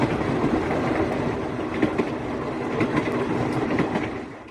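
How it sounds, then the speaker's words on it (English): Riding aboard a train from Rome to Montefalco in Umbria, Italy, a constant rolling rumble fills the carriage, punctuated by regular clickety-clack wheel beats over the rail joints, with no one speaking. "So we're on the train from Rome headed to Montefalco."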